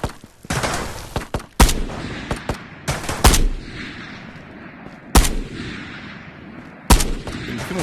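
Gunfire in the video game Ghosts of Tabor: loud, sharp single shots and short bursts, spaced irregularly with brief echoing tails between them and no talking.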